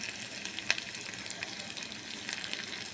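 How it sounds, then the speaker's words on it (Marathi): Mustard seeds, cumin, garlic and dried red chillies hit hot oil for a tadka, giving a steady soft sizzle and crackle with one sharp pop early on, no voices. "मी तेल गरम करून घेतलं. आपण त्याच्यात मोहरी टाकू, जिरा टाकू, थोडा लसूण टाकू, 2 सुक्या मिरच्या टाकू"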